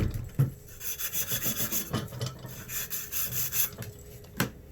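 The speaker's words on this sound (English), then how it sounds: "Then you want to get your flex brush, sand cloth. Just clean the old solder off." A flex brush and sand cloth scrub old solder off a copper pipe that has been soldered for about 20 years, a close rhythmic rasping and rubbing in quick back-and-forth strokes.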